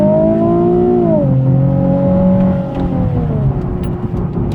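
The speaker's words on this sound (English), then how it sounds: "you had a chance to kind of hear how the engine roars" A 2016 Nissan 370Z Nismo engine roars as it accelerates, a loud rising drone that drops in pitch at a gear change and then climbs again, heard from inside the car.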